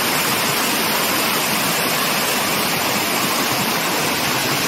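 Clear stream water flows steadily near a mango orchard, a loud, constant rushing wash that is close and continuous with no voices or other sounds.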